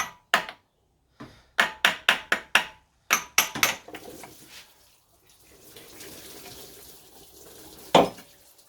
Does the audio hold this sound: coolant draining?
yes